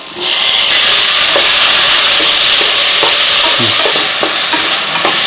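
Onion and chopped tomato for kuruma sauté in oil inside a pressure cooker, a loud, continuous close sizzle with repeated scraping and stirring clicks from a spatula across the base.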